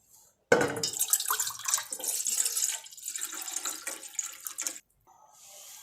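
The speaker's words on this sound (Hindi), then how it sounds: "इसमें आधा लीटर पानी डाल देते हैं" Half a litre of water poured from a tap into a cooking pan, a steady splashing stream starting abruptly and running about four seconds before stopping, close and moderately loud.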